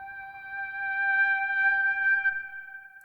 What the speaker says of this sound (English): It sounds like a string kinda with the vocal.